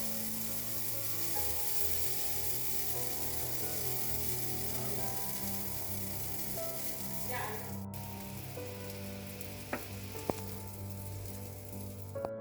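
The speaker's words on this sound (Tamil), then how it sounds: "இப்போ மாவை ஊற்றிட்டு லைட்டாக இது சிசில் பண்ணுறப்ப இந்த ப்ளூபெரிஸ் எடுத்து இது மேலே இப்படி போட்டணும்." Blueberry pancake batter sizzles in a hot pan with a steady, moderately loud frying hiss that runs throughout, broken near the end by a few faint clicks of utensils.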